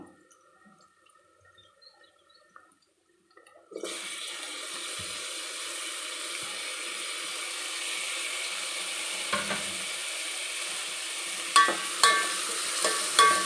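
After a few quiet seconds, a pan of onion and tomato for poha breaks into a steady sizzle, and a few soft clatters of stirring come near the end.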